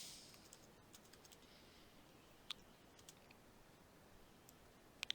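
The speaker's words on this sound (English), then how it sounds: "So we'll just type in here median" Quiet, sparse keystrokes tapped on a computer keyboard while entering a spreadsheet formula, a few isolated clicks with a sharper pair at the very end.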